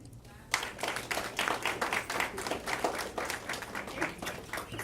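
Audience applause at an award ceremony, a steady wash of many hands clapping that starts abruptly and carries on at moderate volume, with some talking mixed in.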